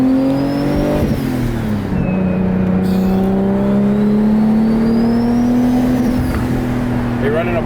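Inside an 800whp Nissan Skyline R34 GTR, the T51R turbo sings a sustained, slowly climbing whine above the engine's constant roar, dipping briefly as the car shifts and then building again.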